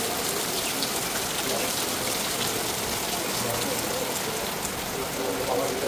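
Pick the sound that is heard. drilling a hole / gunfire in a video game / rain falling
rain falling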